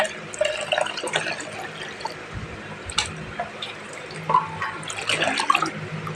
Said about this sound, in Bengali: জলটা ভরে নিই